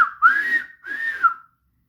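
Thomas the Tank Engine's steam locomotive whistle sounds twice, two fairly loud, sliding toots in quick succession, heard close and alone before fading into silence.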